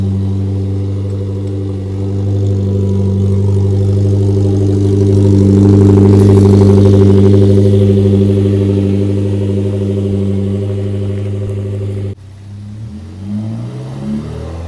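A Mazda2 engine, loud and close, holds a steady idle and rises into a sustained rev before dropping back, then settles into a rougher idle with a slightly diesel-like clatter.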